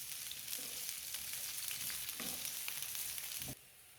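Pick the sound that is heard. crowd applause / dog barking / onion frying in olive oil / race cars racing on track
onion frying in olive oil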